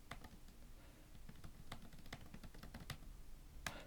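Keys clatter in uneven bursts as a terminal command is typed on a computer keyboard, fairly close, with a steady background hum; a voice briefly speaks near the end.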